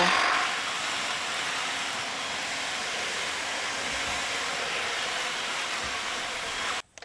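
A large leaf vacuum blower clearing bush trimmings roars steadily close by with a broad airy rush for several seconds, then cuts off abruptly near the end, followed by a couple of small knocks.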